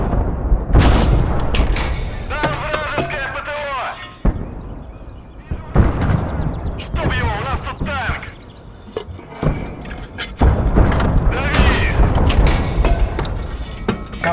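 Gunfire and artillery in the WWII strategy game Gates of Hell: Red Star Rising: loud, repeated booms and sharp shots in dense clusters throughout, with a player talking over the battle.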